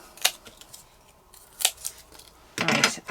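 Scissors cutting card for a handmade greeting card: a few crisp, separate snips close by, spaced apart, then a longer rustling cut at the end.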